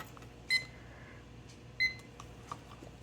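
Two short electronic timer beeps sound about a second apart, close and clear, followed by a few faint clicks against a quiet steady background hum.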